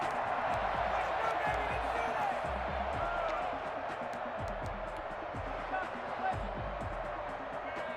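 Stadium crowd in the Madden NFL 21 video game rising for a late two-point try, a steady roaring crowd bed under play-by-play commentary, with occasional thuds and swells throughout.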